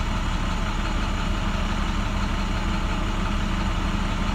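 A Maxforce DT diesel truck engine idles steadily, a loud, continuous low rumble with an even pulsing throb and mechanical hum, close by and alone; no talking.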